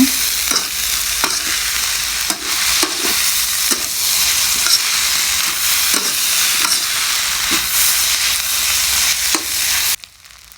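Egg fried rice is stir-fried in a hot pan, with a steady loud sizzle broken by repeated scraping strokes of the spatula, close up and without voices, ending in sudden quiet.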